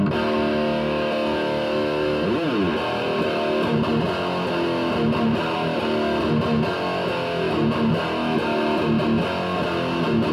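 An electric guitar plays metal riffs through a High Gain Plexi amp with an SK boost pedal: thick, heavily distorted chugging chords and slides, loud and sustained throughout, with no voices.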